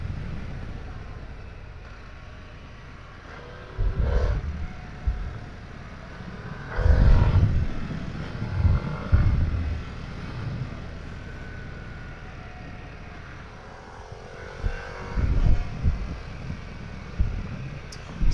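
A Harley-Davidson Pan America 1250 Special motorcycle engine drones while riding, with a low steady hum under wind rush that swells into several throttle surges and revs, loudest around the middle and again near the end.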